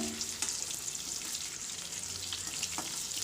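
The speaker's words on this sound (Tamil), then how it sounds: "வாழைக்காயை போட்டுட்டு கரண்டியை வச்சு திருப்பி திருப்பி விடுங்க" Raw plantain pieces frying in oil on a low flame and turned with a ladle, a soft continuous bubbling sizzle with a few light scraping clicks from the ladle.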